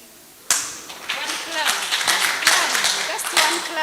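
One sharp hand clap rings out after a quiet moment at a youth skills workshop in Western Uganda, followed by a noisy stretch of overlapping voices and room sound.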